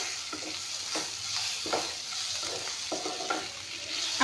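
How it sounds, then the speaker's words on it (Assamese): Fish heads fry briefly in a pan, a continuous sizzle broken by several scraping stirs and clinks of the utensil against the pan, close and moderately loud, with no speech. "অলপমান ভাজি ল'ম। বেছিকৈ নাভাজোঁ, কাৰণ মাছৰ মাথা"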